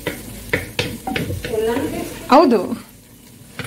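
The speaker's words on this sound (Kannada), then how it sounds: "ಇವಾಗ ಫ್ರೈ ಆಗ್ಲಿ ನೋಡಿ" Tomato and chicken frying in a pan, with spoon stirring and scraping strokes over a steady sizzle, close by, while someone speaks briefly.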